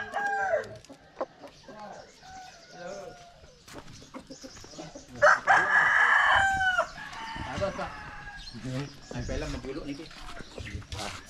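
Colourful roosters in a village in southeastern Bali crow loudly for a couple of seconds midway, with chicken clucks and people talking before and after.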